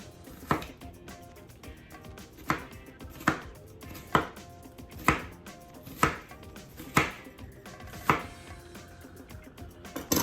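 Knife slicing carrots on a cutting board for sausage and potatoes with gravy: about ten distinct, evenly spaced chops, crisp and close, with no talking.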